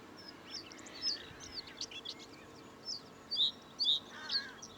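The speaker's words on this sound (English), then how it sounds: "Yeah, it's a blackcap, I think." Blackcap song on a countryside walk near Barkway: a run of bright, warbling chirps and short whistled phrases, moderately close, with quieter gaps and a faint background hum.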